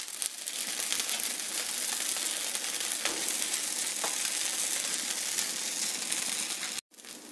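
Ghee sizzles steadily in a hot pan under a frying egg dosa, a close, unbroken hiss and crackle that cuts out for a moment just before the end.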